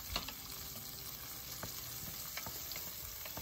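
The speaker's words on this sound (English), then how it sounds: "Again, we have to saute this for another 2 minutes." Shallots, ginger and peppercorns sauté in a pan with a soft, steady sizzle. Occasional light scrapes from stirring break through, all fairly quiet and close.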